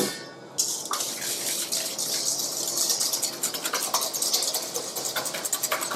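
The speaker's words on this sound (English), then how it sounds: "Just a light whisk." Egg yolks and caster sugar are whisked lightly in a bowl, a steady wet swishing with soft, quick strokes that runs close and continuous.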